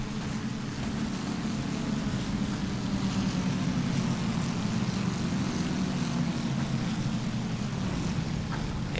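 Fighter planes in the World War 2 strategy game War Leaders: Clash of Nations drone steadily, a constant low propeller-engine hum that holds at an even level throughout with no talking.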